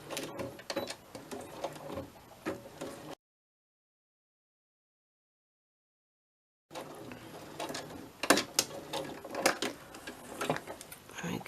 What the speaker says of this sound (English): I'm going to just sew around this, all the way around the 3 edges, because I just like the sewing.